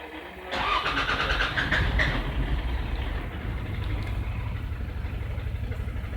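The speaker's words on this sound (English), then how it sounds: "Engine is now running." A Toyota Land Cruiser Prado engine cranks over and catches, then settles into a steady, loud running idle that sounds rough and lumpy, close by with no voices.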